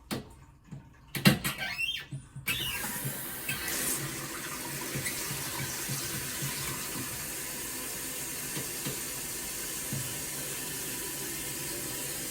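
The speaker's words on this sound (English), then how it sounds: "now we're going to see if everything still works by turning on the water supply and checking for leaks" Water supply opened on a Brondell Swash 1400 toilet seat bidet: a few bumps and a spurt, then water flows and hisses steadily into the unit, fairly close and alone.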